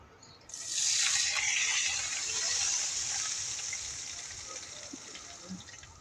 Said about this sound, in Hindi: बघार डालेंगे।